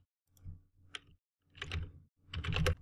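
Bursts of keystrokes as a command is entered on a computer keyboard, clustered clicks in four short runs separated by brief pauses, fairly close and with no voice.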